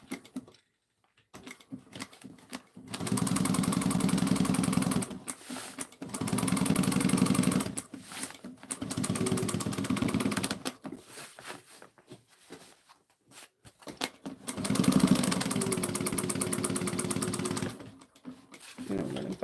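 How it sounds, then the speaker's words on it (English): A sewing machine stitching a backpack side seam at a half-inch allowance, running in several steady whirring bursts separated by short pauses, loud and close. "we're going to now sew down this side with a 1/2 inch allowance"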